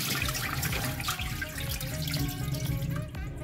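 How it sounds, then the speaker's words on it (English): Carolina long grain rice is rinsed and swished in running water in a kitchen sink, a steady close splashing and trickling with small clinks throughout. "Okay, let's clean that rice."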